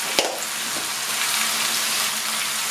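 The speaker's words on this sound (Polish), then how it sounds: "Podsmażamy chwilkę z tymi przyprawami" Pork ribs frying in a pot with caraway, chili, marjoram, thyme, savory, garlic, lovage and paprika give a steady, close broadband sizzle that holds evenly throughout, with a brief clink near the start.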